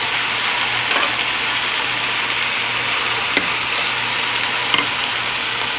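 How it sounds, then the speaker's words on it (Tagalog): Meat with ginger is stirred in a hot frying pan, giving a steady, close sizzle throughout with a few soft spatula scrapes and clicks, and no talking. "Ngayon, ihalo ko yung meat."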